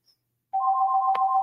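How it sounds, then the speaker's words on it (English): A mobile phone ringtone starts abruptly after a brief silence, a steady bright electronic tone that holds loud and close with one short click partway through. "Uh-oh, there goes my phone again."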